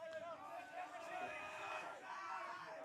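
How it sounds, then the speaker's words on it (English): A rowdy crowd cheers and shouts at a men's club softball grand final, a sustained distant roar of voices and whoops throughout. "Crowd now getting rowdy."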